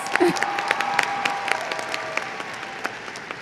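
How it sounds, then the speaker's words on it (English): Steady applause from a crowd, many hands clapping together in a dense, continuous patter that stays fairly even throughout. "Give yourselves a round of applause."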